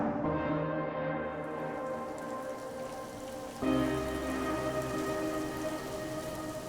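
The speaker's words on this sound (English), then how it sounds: "But it was a pretty rainy day." Steady rain falls in Buffalo Bayou Park, Houston, a broad even hiss with a slight surge in intensity partway through, close and continuous with no voices.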